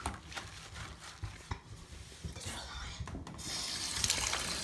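Water runs into a hair salon sink, a steady broadband wash with occasional clatter, growing brighter and louder near the end, while people talk over it.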